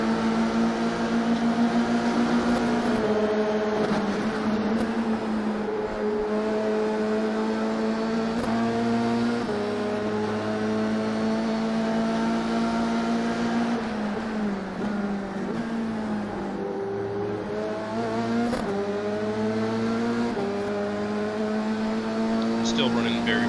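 A Formula 3 race car engine at Oulton Park in the iRacing simulator, a loud continuous whine rising through the gears with shifts and dips for corners, with a voice talking over it.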